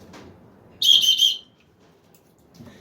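An emergency whistle from a preparedness kit gives one shrill, steady blast of about half a second, loud and close, in an otherwise quiet room.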